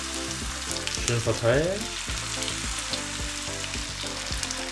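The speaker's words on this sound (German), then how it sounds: "und geben die Masse in die Pfanne rein." Bánh xèo batter sizzling and crackling as it hits a hot, tilted frying pan, a loud hiss swelling as the batter spreads, then settling into steady frying while a person speaks briefly.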